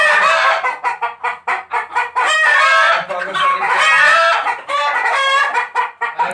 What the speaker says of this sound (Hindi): ये आप देख सकते हैं, बहुत प्यारे मुर्गे हैं।